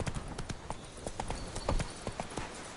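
Horse hooves clip-clopping at a brisk, steady running rhythm, close and distinct, with no talk over them.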